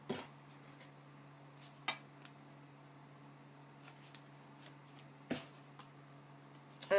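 A deck of tarot cards being shuffled by hand, with a few soft, separate riffles and flicks spaced across a quiet room over a low steady hum.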